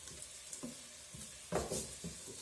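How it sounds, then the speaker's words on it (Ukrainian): Chopped onion tipped into a hot pan with oil gives a soft, close sizzle and hiss, with a few louder bursts of crackling and some light stirring scrapes. "Висиплю всю цибульку сюди. І прикрию."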